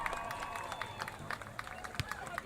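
A football game crowd applauds the senior Crimson Girls, with steady scattered clapping and light cheering from a distance, with a public address voice over it.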